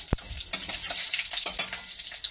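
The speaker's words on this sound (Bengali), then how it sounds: "প্রথমে একটু পাঁচফোড়ন দিয়ে দিচ্ছি আর কাঁচা লঙ্কা।" Panch phoron and green chillies crackle in hot oil for a potato and cauliflower dish, a dense close sizzle with a sharp initial pop as they hit the pan and continuous spitting after.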